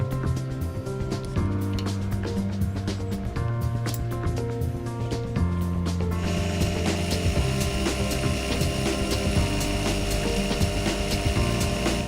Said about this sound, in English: So it's back to the small lathe for the final operations.